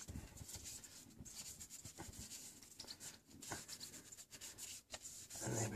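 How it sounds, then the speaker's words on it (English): A brush scrubs the rough inner barrels of car wheels with steady, close rasping strokes that run continuously, with no talking. "you can just hear there's a little bit of roughness on the inside of these wheels"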